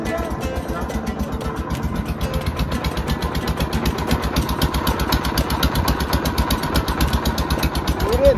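A motorboat engine running on a wide river during a winter picnic outing near the Dabu mangrove forest, a steady close chugging drone that swells slightly louder toward the end.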